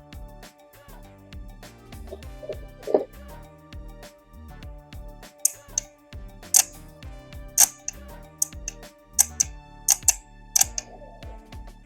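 A relay for a Mini's air conditioning clicks when fed from the car battery, giving a scattering of sharp, close clicks and ticks at irregular intervals over quiet handling noise, with no talk.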